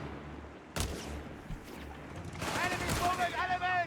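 Gunfire from a Company of Heroes 3 battle, with German bikes and Panzer Grenadiers attacking. A sharp shot rings out, then a denser burst of rapid fire comes in toward the end, with a commentator talking over it.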